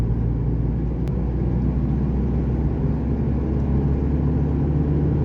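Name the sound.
turbo diesel pickup engine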